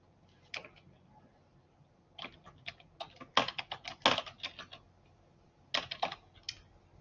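Bursts of keyboard typing as sentences are entered into a chat, arriving in uneven clusters of quick clicking keystrokes separated by short pauses, fairly close and moderately quiet, with no talk.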